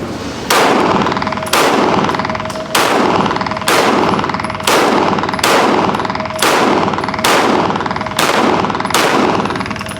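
A CZ pistol fires at a shooting range: about nine loud, sharp reports at a steady, even pace, each shot ringing briefly before the next.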